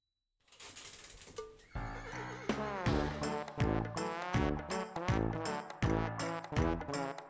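A horse whinnies near the start in the Trombone Champ video game, then loud, rhythmic trombone-led music with bouncing brassy notes takes over for the rest.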